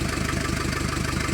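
A Hyundai Porter D4CB diesel engine runs just after starting, a loud, steady, rapid knocking idle close up with no talk.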